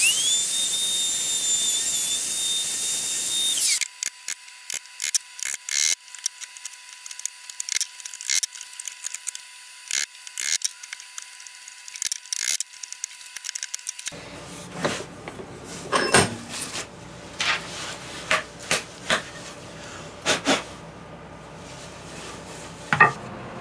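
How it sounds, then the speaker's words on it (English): Router cutting a square mortise in wood for a computer armoire, a high whining motor that cuts out and gives way to a long run of clicks and knocks from the tool being handled, no talking. "So now just flip the router around"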